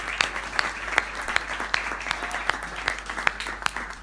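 A Hindi comic poetry gathering's audience claps in a steady, rhythmic unison beat, with crisp repeated claps at an even pace throughout.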